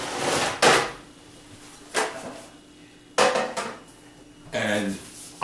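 A metal baking sheet handled in a kitchen, with four sharp clanks and scrapes spaced roughly a second apart as it is set down and turned upside down against a quiet background.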